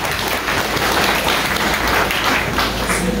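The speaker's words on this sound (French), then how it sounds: "Merci à l'applaudissement." Steady applause from an audience at a French-speaking Christian gathering, a dense, even wash of many hands clapping, fairly loud and continuous throughout with no break.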